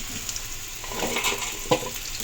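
Cumin seeds sizzle and crackle in hot oil in a kadai, giving a steady close frying hiss dotted with a few sharper pops and spoon clinks.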